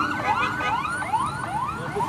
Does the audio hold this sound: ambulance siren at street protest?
yes